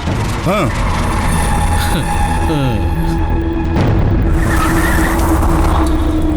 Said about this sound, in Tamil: ஓவர்டேக் பண்ணி வண்டியை மறிச்சு நிப்பாட்றா.